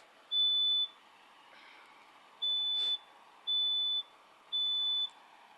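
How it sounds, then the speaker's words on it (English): A smoke alarm sounds during a room fire test, giving a steady series of shrill electronic beeps in a measured rhythm, heard indoors over a low background hiss of the burning room. "The smoke alarm in the room is already going off."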